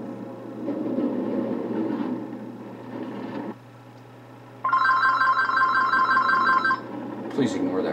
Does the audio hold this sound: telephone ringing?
yes